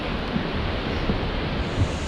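A loud waterfall pours as a constant, dense roar of falling water heard close by, unbroken and with no voices over it.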